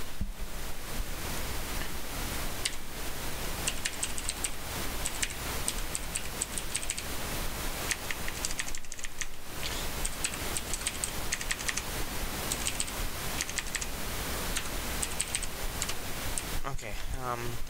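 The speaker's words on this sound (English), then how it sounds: "I got a new mechanical keyboard. It's a Razer Black Widow Ultimate." Rapid, continuous clicking of keys on a Razer BlackWidow Ultimate mechanical keyboard, close and fairly loud, with a brief lull partway through and a low background sound underneath.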